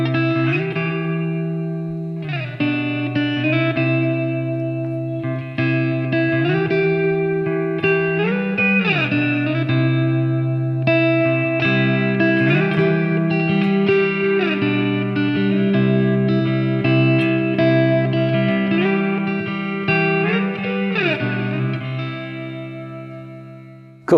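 Electric guitar plays a continuous chord progression reharmonized in tenths, sustained two-note chords shifting smoothly between positions, with a warm effected tone and no speech.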